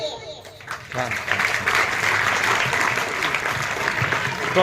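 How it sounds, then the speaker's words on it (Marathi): Loud, sustained applause from an audience at a school recitation by a second-grade girl, clapping swelling after a second and holding steady to the end. "जोरदार टाळ्या झाल्या पाहिजे"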